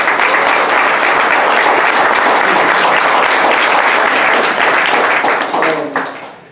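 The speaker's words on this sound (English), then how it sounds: "We got to give a round of applause to one of the best rappers out there right now" A press conference crowd gives loud, sustained applause for a rapper, the clapping filling the room before tapering off at the end.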